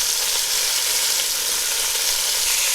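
Cubes of beef chuck brown in hot olive or avocado oil with a loud, dense, continuous sizzle. The crackle is close and steady, and nobody talks.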